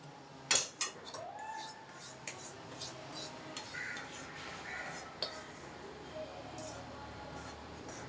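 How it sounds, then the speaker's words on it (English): Besan ladoo mixture being scraped from a pan into a bowl, a few sharp utensil knocks at the start followed by quiet rubbing and scraping. "Now I am transferring this into a bowl"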